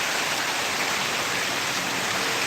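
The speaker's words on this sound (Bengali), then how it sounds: "এমন বৃষ্টি" Heavy downpour pounding steadily outdoors, a dense, unbroken roar of rain close by with no pauses and no voices.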